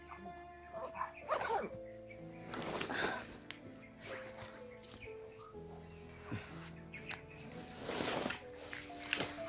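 A dog barks and whimpers in short, uneven bursts, fairly close, mixed with scattered rustling and other small background noises.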